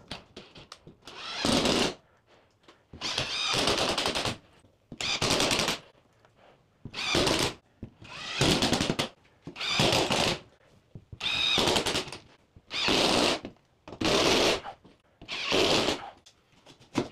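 A power screwdriver drives screws through drywall sheets into timber framing, making loud, close bursts of whirring of a second or so each, about ten in a row with short pauses between.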